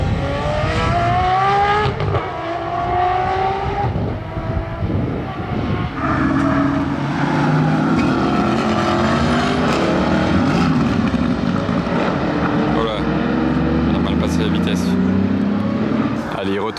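An Aston Martin Valkyrie races at full throttle on a circuit, its engine howling loud and continuous with rising and shifting pitch, along with road and wind roar and excited talking over it.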